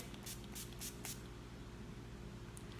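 Four quick hissing spray bursts in succession from an aerosol can of NYX Matte Finish setting spray held close, over a low steady hum, then a fainter puff near the end.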